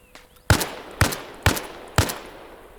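An AK-style rifle fires in the Arma Reforger video game: four sharp, evenly spaced single shots about half a second apart, each with a short decaying tail.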